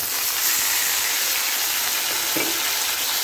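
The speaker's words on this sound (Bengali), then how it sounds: "এখন আমি লাল শাকগুলো ঢেলে দেব।" Red amaranth greens fry in a pan with browned onions, giving a loud continuous sizzle and hiss, with a short thump of food landing late on.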